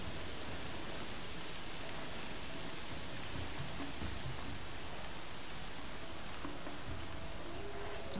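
Steady rain falls in Horizon Zero Dawn, a dense, even hiss of downpour that holds without pause throughout, with no voices.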